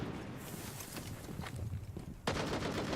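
Rapid pistol gunfire in Rainbow Six Siege during a pro esports match, a string of sharp cracks over busy game noise and footsteps, with a louder burst near the end.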